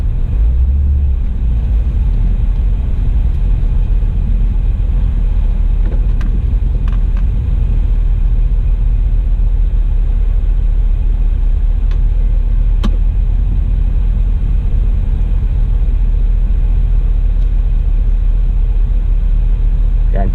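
A 2017 Chevy SS fitted with Kooks exhaust idles and rumbles at a drag strip, a loud, steady, deep low drone that fills the whole stretch with only faint scattered clicks on top.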